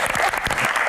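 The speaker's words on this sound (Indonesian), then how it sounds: "Tepuk tangan untuk Mbah Tejo." Brief, close burst of audience applause at a studio talk show, dense clapping from a crowd lasting under a second.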